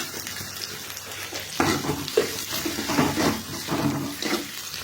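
Curry leaves, chillies and onions sautéing in a hot pan give a steady close sizzle, broken by scraping, clattering stirring strokes that come in uneven bursts.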